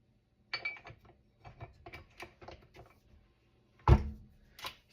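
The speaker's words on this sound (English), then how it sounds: "So we're just going to take the paddle off. And we're going to put on the dough hook." Metal clicks and light clunks as a stand mixer's paddle is pulled off and a dough hook fitted, ending in one sharper knock and a final click, close and with no talking.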